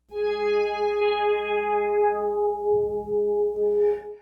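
A sustained synth string note is held steady while a filter gradually strips away its upper overtones, leaving a darker, mellower tone; a faint rustle occurs near the end.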